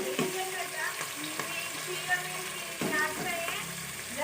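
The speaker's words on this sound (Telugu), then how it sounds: "ఆయిల్ పోసుకొని ఇలా ఏం వేసిన అంటే ఉల్లిగడ్డలు వేసిన, పచ్చిమిరపకాయలు, మెంతులు, జీలకర్ర ఇవన్నీ వేసిన" Onions, green chillies, fenugreek seeds and cumin frying in oil for a fish curry, a soft steady sizzle with light scrapes and taps of a stirring spoon, fairly quiet throughout.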